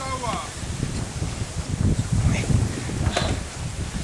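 Outdoors in the Endla nature reserve, wind buffets the microphone with a continuous low rumble and uneven gusts. Muffled voices are faintly mixed in.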